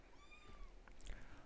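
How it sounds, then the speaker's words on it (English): Faint meow from a cat in a quiet room, one short drawn-out call over a low background hiss, followed by a couple of soft noises. "Hello, Kitty. Be good, Kitty, and listen to the story"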